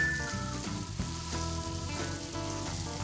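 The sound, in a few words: scallops searing in butter on a Blackstone griddle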